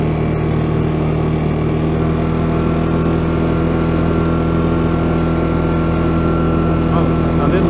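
A CFMoto Cforce 520L ATV engine drones loudly and steadily up close as the machine drives along a slippery road.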